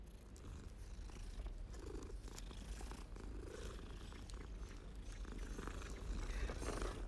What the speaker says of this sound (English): You must pet the cat.